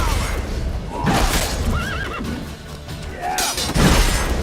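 A horse neighs and whinnies loudly several times in The Witcher 3 during a fight, the calls rising and falling, over a rumbling background of hooves and commotion.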